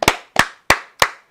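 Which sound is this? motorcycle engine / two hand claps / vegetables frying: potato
two hand claps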